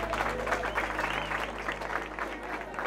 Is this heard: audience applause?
yes